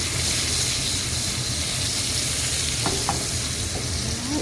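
A thin steak frying in butter for breakfast produces a continuous, loud, close sizzle with a few faint clicks from the pan, no speech.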